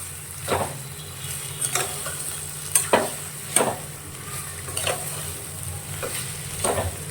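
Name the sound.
potato pieces being stirred and sautéed in oil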